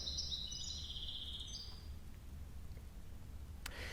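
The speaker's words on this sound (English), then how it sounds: "the chirping of birds." A few faint, high bird chirps early on over a low, quiet background rumble.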